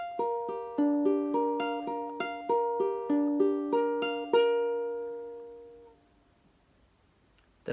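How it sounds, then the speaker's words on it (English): An acoustic guitar fingerpicking pattern, played twice through as clear, evenly plucked arpeggiated notes. The final chord rings out and fades to near silence, with no voices. "And in the actual song, you'll repeat that pattern twice"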